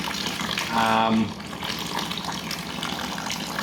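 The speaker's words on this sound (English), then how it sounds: "It's still pumping out, and there's probably 300 ml left." Grainfather G70 brewing system pumping out 40-degree water, a steady gushing, trickling flow with a brief louder surge near the start, continuing in the background at moderate level.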